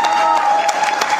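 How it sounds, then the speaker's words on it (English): A debate audience applauds Jill Stein, dense clapping from a large crowd filling the whole short moment at steady loudness. "it seemed like she was the only one that was getting applause"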